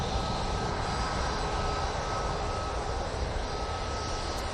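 Jet engines of an Airbus A330neo airliner roar at Manchester Airport, a steady broadband rumble and whine that holds at a constant level, with no voices.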